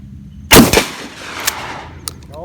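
A Thai Arms shotgun fires a single slug at a 60 m range in the rain, giving one sharp loud blast with a quick echoing tail, followed by a faint distant knock.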